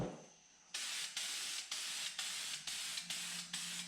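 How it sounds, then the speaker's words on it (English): A series of short, rhythmic bursts of spray paint hissing from a can, about seven quick passes in a row, close and fairly loud. "you want to get the etching primer and spray that on your panel"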